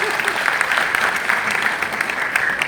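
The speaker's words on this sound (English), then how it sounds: "Can you give them a round of applause?" Warm applause from the congregation at an annual Mariammen prayer gathering at a temple society in Mount Edgecombe, honouring the speaker's parents, dense and steady for a short stretch.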